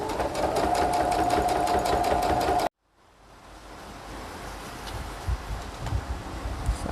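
A sewing machine stitches the ends of a wrap skirt in a steady fast whir for a few seconds, then stops abruptly, leaving faint room noise.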